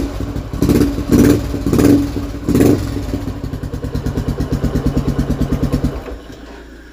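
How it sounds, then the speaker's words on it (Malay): A Kuantan motorcycle with an aftermarket NLK exhaust revs loudly in a few sharp bursts, then settles into a rapid, throaty, popping idle from the loud exhaust nearby. "Exhaust pakai NLK. Bunyi enjin macam ni lah."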